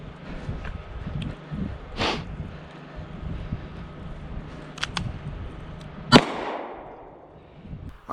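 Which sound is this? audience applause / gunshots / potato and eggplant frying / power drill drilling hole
gunshots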